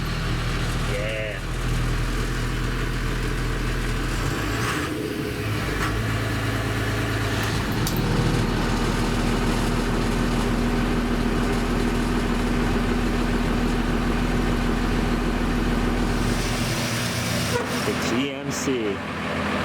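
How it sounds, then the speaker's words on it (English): An old GMC diesel truck engine idles steadily up close, a constant low rumble with a faint whine running throughout. "Let's fire the old GMC up."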